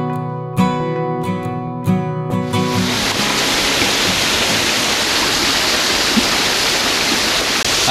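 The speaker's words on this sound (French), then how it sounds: "ce bruit impétueux qu'il y a derrière moi, c'est l'eau qui dévale à toute vitesse un ancien canal qui va alimenter un ancien moulin" Water rushing at full speed down an old mill canal at Tel Dan, a loud, dense, continuous roar close by that takes over after a few brief ringing tones at the start.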